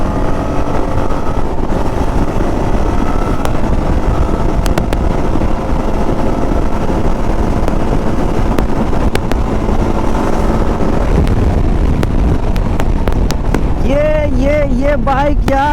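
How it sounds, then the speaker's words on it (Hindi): A 2025 Yezdi Adventure motorcycle is ridden hard, its engine roaring loud and close under heavy wind buffeting, with revs rising and falling through gear shifts and a climbing whine near the end. "गियर शिफ्टिंग देखिए"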